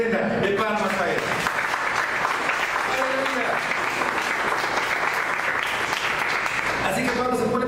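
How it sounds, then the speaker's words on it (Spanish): Church congregation applauding in sustained clapping for about eight seconds, steady and full, with a preacher's voice and some speech-like tones mixed in. "Denle una ofrenda de palmas a Él."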